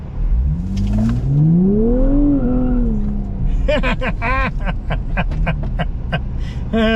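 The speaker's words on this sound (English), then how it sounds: "We spun the wheels a little bit here on this rear wheel drive car" A 2023 Nissan Z rear-wheel-drive sports car accelerates hard in a parking lot, engine note rising through a gear before a gearshift, then sharp rapid popping and crackling bursts as the revs fall, loud and close, with talk mixed in.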